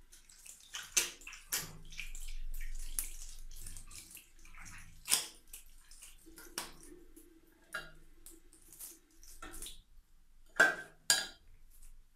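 Water splashing in bursts as someone washes their face at a sink: several short, close splashes and drips separated by quiet pauses, with a faint soft rush of running water underneath.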